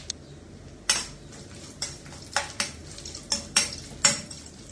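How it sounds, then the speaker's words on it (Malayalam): Cashew nuts sautéing in groundnut oil in a pan with popped mustard seeds, heard as a faint oily hiss broken by a series of sharp metallic clinks and scrapes of a spoon against the pan. "കടുക് പൊട്ടിക്കഴിയുമ്പം ഇതിലേക്ക് കുറച്ച് അണ്ടിപ്പരിപ്പിട്ട് വഴറ്റാം."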